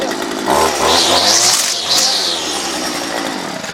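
A John Deere string trimmer fitted with a gator head cuts through a bush, its small engine screaming loud and close with a harsh buzzing whine that rises and falls steadily under load.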